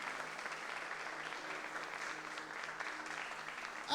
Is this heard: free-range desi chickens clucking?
no